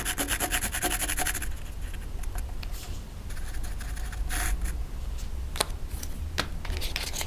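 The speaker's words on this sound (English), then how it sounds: "You can go ahead and darken your impression with your Sharpie" Sharpie marker rubbed back and forth over a stamped aluminum blank, giving a steady scratchy rubbing that is close and continuous, with a few sharper squeaks and ticks along the way.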